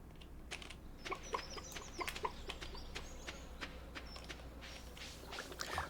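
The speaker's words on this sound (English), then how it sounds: "Chickens and eggs. Grumpy chickens." Chickens cluck faintly in a farm-building video game over a steady low hum, mixed with rapid clicking taps throughout.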